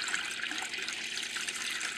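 Water pours steadily into a repurposed Brita container set up as an aquaponics system, a continuous close splashing trickle onto a bowl over gravel.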